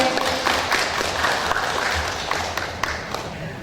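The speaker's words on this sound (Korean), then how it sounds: "박수 보내주십시오." An audience applauds at the opening of the third Nongae Sarang national poetry recital contest, general division, a dense, even wash of clapping that holds steady and then tapers slightly.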